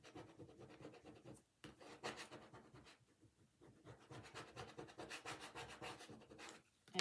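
A tool scrapes across a wooden block while making a small Halloween craft, giving a close, dry rasping and rubbing in repeated strokes with a brief pause midway and no voices.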